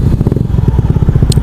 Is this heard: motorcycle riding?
yes